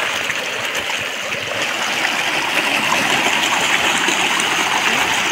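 Strong river current rushing steadily past a village riverbank, a loud, continuous broadband wash of flowing water that swells slightly louder midway and holds without pause.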